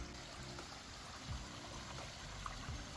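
Water flows steadily through a koi pond bog filter, producing a soft, continuous trickling and burbling that stays fairly faint, with no voices over it.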